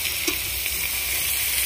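Onions, cumin, bay leaf and whole garam masala spices frying in hot oil, giving a loud, continuous close crackling sizzle with no voices.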